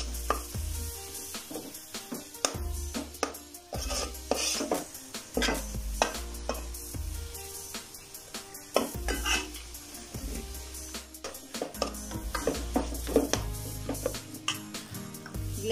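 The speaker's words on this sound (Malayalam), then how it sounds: "നമ്മൾ അരിഞ്ഞ് വെച്ചിങ്ങനെ നമ്മുടെ തക്കാളി നമുക്ക് ചേർത്ത് കൊടുക്കാം." Chopped tomatoes tumble into a pot of Kerala-style chicken curry and get stirred with steady spoon scrapes and knocks against the metal pan, a low sizzle running underneath throughout, no talking.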